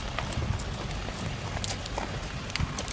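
Horse walking at a relaxed pace on long reins during a riding lesson, hooves clip-clopping in a steady, fairly close rhythm over a constant background noise.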